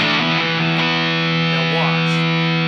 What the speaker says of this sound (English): So let's turn on a silk tone overdrive here.